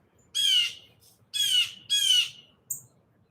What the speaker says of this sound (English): there's a blue jay now